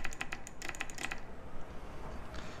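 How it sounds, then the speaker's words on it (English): Keys clack on a typewriter in the VR spy game The Red Stare, a quick burst of about a dozen crisp strikes that then trails off into quiet room tone. "Type on the typewriter for a bit."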